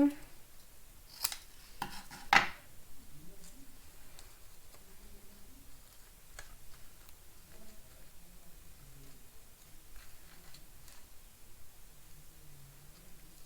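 Scissors snip paper for a multi-panel garden-themed greeting card, with a few quick, close cuts early on followed by faint rustling in a quiet room.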